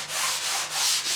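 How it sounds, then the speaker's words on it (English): Fine sanding on a surfboard blank cut by a machine, a steady close abrasive rubbing that swells and eases in three or four strokes, with no voices. "just pretty much fine sanding, fine tuning a little bit"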